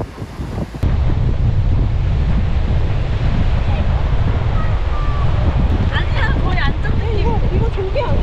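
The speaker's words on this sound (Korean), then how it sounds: "바람 소리 들리시나요?" Strong wind roars steadily across an open campsite on a cool evening, buffeting the microphone in a continuous loud rush, with faint bird calls near the end.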